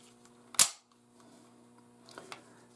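A single sharp dry-fire click comes from a pistol as the trigger is pulled on an empty chamber with no magazine, in a comparison of Sig and Glock handguns. A faint second mechanical click follows a little later in a quiet room.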